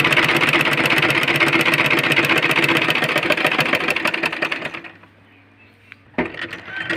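Sewing machine stitching a baby frock, running steadily with a rapid, even needle rhythm for about five seconds, then stopping into near silence before a brief restart near the end.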